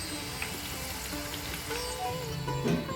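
Moong dal frying in hot oil, a steady soft sizzle with fine crackling throughout as the foam settles, close and continuous with no talk.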